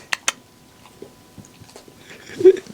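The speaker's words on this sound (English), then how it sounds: "You can't be chewing that here." Someone chews close to the microphone, giving a few sharp bites near the start and soft moist mastication noises scattered through the quiet, with a louder crunch near the end.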